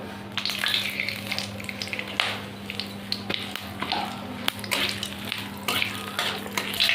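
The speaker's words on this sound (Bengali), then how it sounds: "কড়াইতে তেল দিয়ে দেবো গোটা জিরে দিয়ে দেবো তেজপাতা শুকনো লঙ্কা দেবো দারচিনি লবঙ্গ আর এলাচ দিয়ে দেবো" Whole cumin, bay leaves, dried red chillies, cinnamon, cloves and cardamom sizzle in hot oil in a kadai, a steady crackling fry broken by clinks and scrapes of a spoon, over a low electrical hum.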